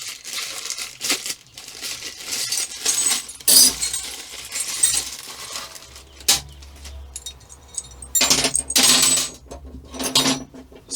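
Metal wing bolts from an Axminster Craft AC200WSG bench grinder unboxing, clinking and jangling in bursts as they are handled, mixed with rustling packaging, close and uneven.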